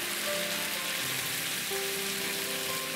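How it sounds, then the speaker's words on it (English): Bhaji sautés lightly on a hot tawa for Mumbai roadside masala pav, giving a dense, steady hiss and crackle like rain on a surface. "And just lightly saute it."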